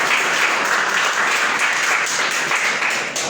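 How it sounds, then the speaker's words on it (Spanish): A church congregation applauds during a sermon, loud, sustained clapping from a large crowd filling the room in a continuous dense patter. "Quiero que le des un aplauso al Señor Jesucristo por eso."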